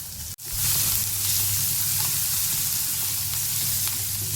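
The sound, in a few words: garlic and green chilli frying in a pan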